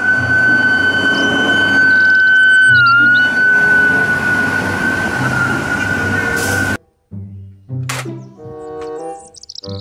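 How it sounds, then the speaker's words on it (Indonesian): A toy fire truck plays a loud, continuous electronic siren tone over a rumbling engine sound for about seven seconds, then stops abruptly, followed by brief electronic tones and clicks. "Mobil truk pemadam kebakaran."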